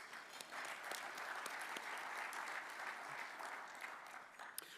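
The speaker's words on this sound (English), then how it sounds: "Please, a big round of applause for both of those groups." Sustained applause from a conference audience at a capital conference opening session, a dense even wash of many hands clapping steadily throughout, moderately distant and fairly quiet.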